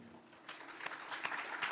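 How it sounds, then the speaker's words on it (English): Faint applause from a conference audience thanking a panelist at an Indonesian panel discussion, starting after a brief hush and building into scattered, distant clapping. "Big applause to Pak Adi"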